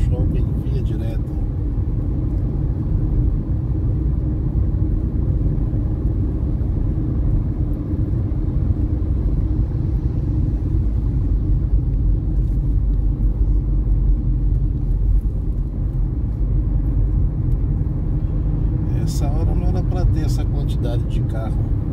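Continuous road traffic rumble on a drive from Parnamirim toward Natal, Brazil, with cars moving alongside at a steady loud level throughout.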